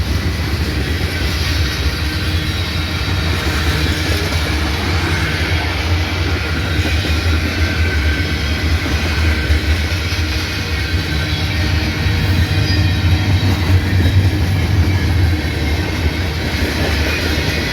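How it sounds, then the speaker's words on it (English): A long manifest freight train rolls past, a steady heavy rumble and roar of wheels and cars that continues unbroken for the whole stretch. "manifest freight train"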